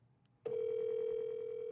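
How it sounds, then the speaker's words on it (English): An outgoing phone call rings back with a steady, close electronic tone that starts abruptly and holds without a break. "It's ringing."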